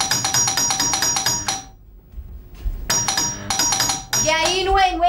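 A house doorbell rings in a run of rapid repeated bright chimes, stops briefly, then rings again in the same quick pattern, with a voice speaking at the end.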